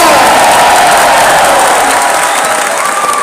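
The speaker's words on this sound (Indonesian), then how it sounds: "Boleh tepuk tangan lagi yang meriah buat Mas Gibran" A large crowd at a political rally for Prabowo and Gibran bursts into loud, sustained applause and cheering for Mas Gibran, a dense roar of clapping and shouts filling the space.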